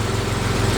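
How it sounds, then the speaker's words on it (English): Engine of a 1985 Jaguar XJ6 salvage car running steadily, a dense continuous rumble, close and fairly loud with no break. "how sweet does that engine sound?"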